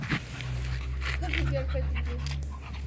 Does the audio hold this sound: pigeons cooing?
no